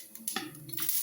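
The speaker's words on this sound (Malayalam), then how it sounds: "ചൂടായ വെളിച്ചെണ്ണയിലേക്ക് 1 ടീസ്പൂൺ കടുക് ഇട്ട് കൊടുക്കുന്നുണ്ട്." A teaspoon of mustard seeds spluttering in hot coconut oil, with quiet, brief crackles and pops lasting about a second, faint and close, with no talking.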